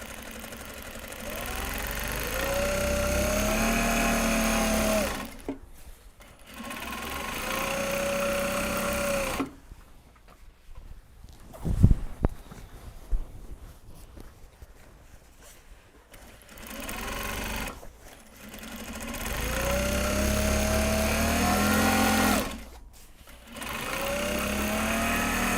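A sewing machine runs in long, steady stitching bursts on Japanese fabric tote bags, separated by pauses filled with handling clatter and rustling, close and fairly loud.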